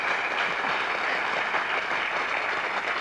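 Studio audience applauding game show contestants on a 1993 French television quiz, a steady, dense wash of clapping holding evenly throughout with no voices over it.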